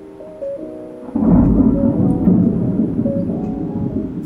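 Thunder rolls over Singapore ahead of rain: a low, heavy rumble swells in about a second in and keeps grumbling loudly to the end, after a quieter stretch with a faint tonal sound.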